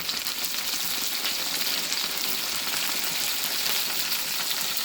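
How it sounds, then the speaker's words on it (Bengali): Cauliflower fries with salt and turmeric in a pan of hot oil alongside potatoes, dried red chilli, bay leaf and green chillies, giving a loud, steady, close sizzle throughout with no talking. "এবারে ফুলকপিগুলো দিয়ে দিচ্ছি, একটু নুন হলুদ দিয়ে ভাজবো।"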